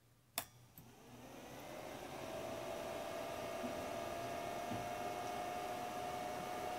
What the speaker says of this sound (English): we can hear all the fans running